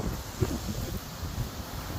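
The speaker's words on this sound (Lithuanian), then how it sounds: "Vėjas toks stiprokas" Strong wind blowing outdoors among flowering olive trees, a continuous rushing roar buffeting the microphone with no voices.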